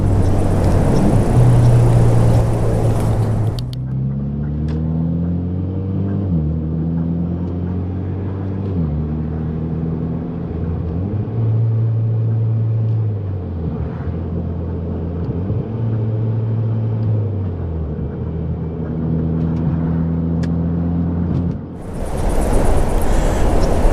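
A Mitsubishi Lancer with the SST dual-clutch gearbox drives on, its engine note climbing and dropping in steady steps through several upshifts and downshifts, loud and close with no talking.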